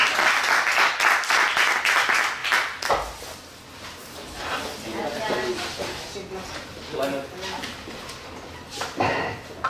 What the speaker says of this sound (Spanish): por favor, un fuerte aplauso para Javier